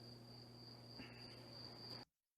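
Crickets chirping at night in northern Israel, a steady continuous high trill with a low hum beneath, fairly faint and constant, cutting off abruptly near the end.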